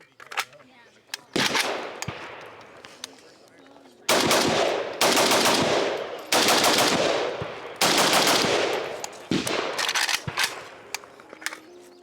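Shots from a Krebs Custom M23 AK12-style rifle ring out in several sharp bursts, the loud reports coming in quick repeated strings with short pauses between them.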